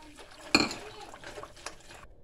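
Gram flour batter with water, chili and garlic being stirred in a bowl: a sharp clink of spoon on the vessel, then soft wet scraping and a lighter tap, fairly quiet.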